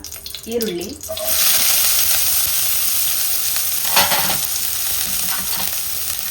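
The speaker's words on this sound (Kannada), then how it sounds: "ಈರುಳ್ಳಿಯನ್ನು ಫ್ರೈ ಮಾಡ್ಕೊಳ್ತೀನಿ. ನಾನಿಲ್ಲಿ ಸಾಸಿವೆ ಎಣ್ಣೆಯನ್ನು ಹಾಕ್ಕೊಂಡಿದ್ದೀನಿ." Onions frying in mustard oil in a hot kadai, a steady broad sizzle that kicks in after a short clatter of dropping in and holds throughout with occasional stirring scrapes.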